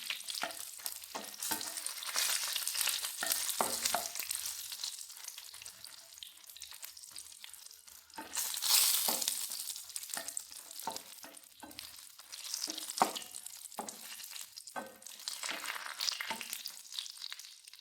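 Dried red chillies, for a Kerala-style chilli chutney, roast and rattle in a pan, with steady sizzling broken by frequent stirring scrapes and clicks, close and moderately loud with no talk.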